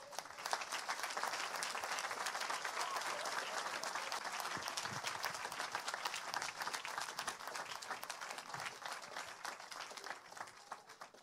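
A church congregation in Evry bursts into steady, dense applause that fills the room and continues without a break, loud and close, with a voice faintly present underneath.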